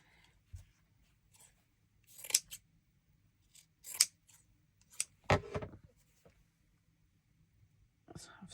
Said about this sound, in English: I really need to keep my hands on these big scissors.